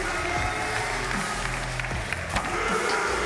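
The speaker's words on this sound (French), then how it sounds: "les applaudir une dernière fois" An audience claps at an opening ceremony, a steady wash of applause with a few scattered cheers, holding at a moderate level throughout.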